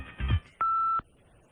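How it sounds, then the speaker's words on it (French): A single steady electronic beep on a French radio phone-in line, lasting about half a second after a brief burst of line noise, clear and alone with no talk. "C'est à toi après le bip."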